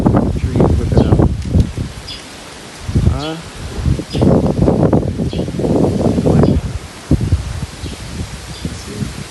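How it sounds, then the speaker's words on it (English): Gusty wind thrashes trees and rustles leaves steadily, with a brief lull midway, while a voice talks intermittently over the noise. "Trees whipping up."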